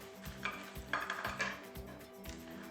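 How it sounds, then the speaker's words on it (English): Chopped apple and frozen rhubarb stirred together in a casserole dish, giving quiet, close clinks and scrapes of a utensil against the dish in a loose series of taps. "Just give it a little bit of a mix around."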